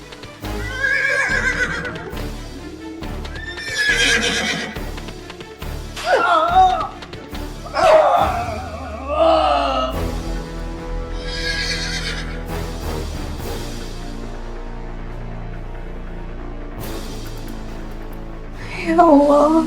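A horse whinnies in several loud, shrill bursts with a hint of hoof clip-clop, set against a steady low droning background that runs throughout.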